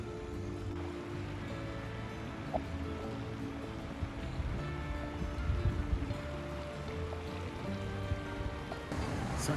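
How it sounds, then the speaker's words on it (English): A debris-flow flash flood from Schultz Creek pours into a neighborhood near Flagstaff, Arizona, its muddy water rushing with a steady, broad roar that swells slightly in places, with no voices over it. "This is the debris flow that is now flowing into the neighborhood."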